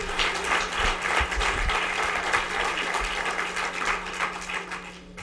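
Dense, sustained applause from a sizable audience at a mayor's State of the City address, steady clapping filling the whole stretch, with a low hum underneath.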